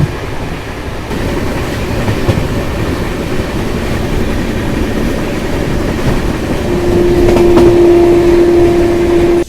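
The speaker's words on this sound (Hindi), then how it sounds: "गाड़ी तो बढ़िया रफ्तार में भाग रही है जब से अमृतसर से निकली है" The 12242 Amritsar–Chandigarh intercity train runs at speed, heard from on board as a steady loud rumble with faint wheel clatter and a brief tonal whine near the end, with no talk.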